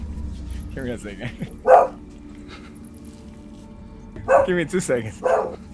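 Dog barks and yips indoors after someone touches the door, short bursts of excited barking separated by a pause, heard alongside someone talking nearby.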